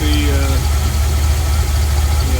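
A car engine with a new idler pulley idles with a loud, steady rumble close by, and a brief thin squeal from the drive belt rises near the start.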